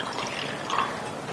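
Water is poured into a cooking pot for a shawarma pickle of cabbage and carrot, giving a steady, soft splashing hiss that runs through the whole moment at close range.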